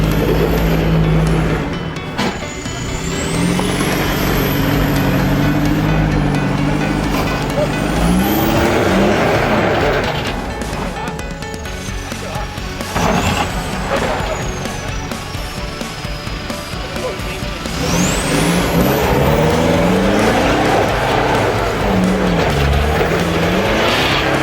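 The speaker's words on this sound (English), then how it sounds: "And Karat coming in with his whistling Isuzu, taking this obstacle quite slow, quite cautiously" An Isuzu 4x4 with a whistling engine crawls slowly and cautiously over an off-road obstacle, its engine note rising and falling with a high whine sweeping through, loud and close throughout.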